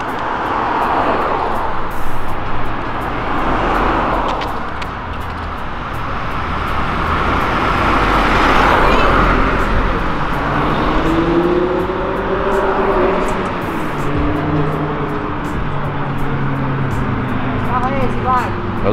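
A Lexus 3.5 V6 drift car engine idles roughly, then revs up in rising, sweeping pulls that climb and fall several times. It is close and loud, with people talking over it.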